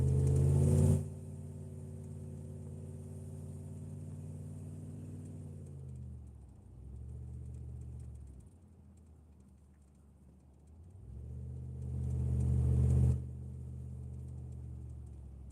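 A car engine hums steadily while driving, low and muffled inside the cabin, with two louder surges near the start and end and a quieter dip in the middle.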